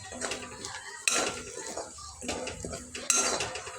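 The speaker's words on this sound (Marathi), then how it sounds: "एक चमचा कांदा लसूण मसाला व्यवस्थित मिक्स करून घ्यायचा आहे" A spoon scraping and clanking in a pan while onion garlic masala is stirred into oil for paneer curry, with irregular metallic strokes up close and brief louder knocks.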